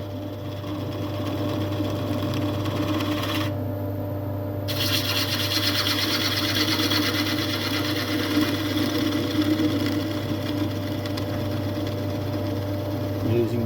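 A woodturning lathe hums steadily while a tool cuts a concave base into a turned wood piece, giving a continuous rubbing, rasping scrape over the motor drone throughout, with a brief change partway through.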